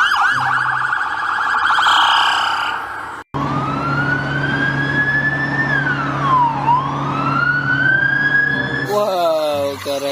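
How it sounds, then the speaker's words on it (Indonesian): A video-game police car siren wails loudly up close, its pitch sweeping up and down in a long rising and falling tone, with other electronic game sounds before and after. "Wah, lihat di sini ada wah mobil polisi ya ternyata."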